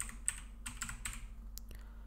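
Short bursts of computer keyboard typing while renaming a layer in After Effects, a quick run of close, light key clicks with brief gaps, no talking.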